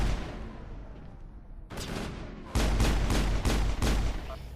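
Video game battle with gunfire and rockets: after a quieter rumbling stretch, bursts of loud sharp shots and blasts erupt in quick succession, dense and close.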